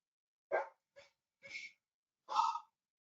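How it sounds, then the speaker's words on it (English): A dog gives four short, separate barks at a distance, faint and spaced irregularly against near silence. "Okay, there's a constant dog barking."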